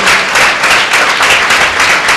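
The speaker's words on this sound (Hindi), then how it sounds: "एक बार ताली बजाकर प्रभु का धन्यवाद करें।" A church congregation at a Sunday meeting claps together to thank the Lord, producing loud, sustained, evenly spread applause from start to finish.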